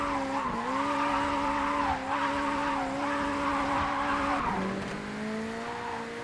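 A drifting car in the Japanese Drift Master game howls through a long sustained tire squeal over the droning engine, with the pitch dipping briefly and then sliding lower near the end.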